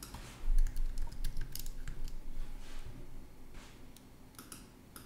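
Typing on a computer keyboard during a website plugin search, with quick irregular key clicks, fairly close, louder at first and thinning out toward the end, no voices.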